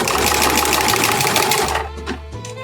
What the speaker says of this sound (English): we're going to take it to our machine and we're going to zigzag stitch